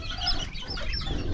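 Two young chicks scuffling, one of eight kept together: a dense, continuous burst of clucking and fowl chatter, close and steady throughout, with no talking.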